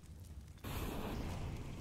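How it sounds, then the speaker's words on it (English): A molotov igniting in CS:GO on the Inferno map, a sudden loud crackling, hissing burst of flame that starts abruptly and roars on steadily, with a crunchy 8-bit explosion quality. "Sounded like an explosion in an 8-bit sound cue from Final Fantasy 2"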